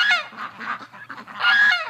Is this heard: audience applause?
no